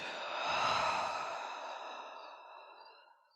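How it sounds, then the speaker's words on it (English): A single deep, releasing breath, drawn in and let out as a long, soft, airy sigh that swells and then slowly fades to silence. "And a nice deep releasing breath here, in and out."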